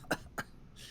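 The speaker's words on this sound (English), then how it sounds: "Coughing, smoking." Two sharp, close coughs in quick succession, fairly quiet, followed by a soft breathy hiss, with no talk over them.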